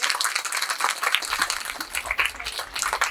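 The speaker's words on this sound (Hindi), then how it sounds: "जोरदार तालियां अगर आप बजा दें" An audience at an outdoor poetry recital in a pandal claps loudly and steadily, a dense continuous wash of applause throughout.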